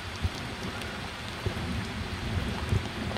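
Heavy driving rain pours steadily during a trout fly-fishing outing with a bog fly, a dense continuous wash with occasional duller thuds and gusts, no voices.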